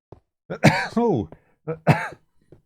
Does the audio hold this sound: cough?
yes